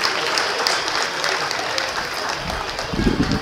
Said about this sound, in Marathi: त्यांच्यासाठी आपण जोरदार सगळ्यांसाठीच टाळ्या वाजवूया.